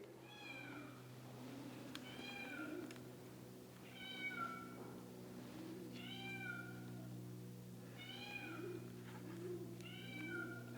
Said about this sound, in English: There's Shop Kitty.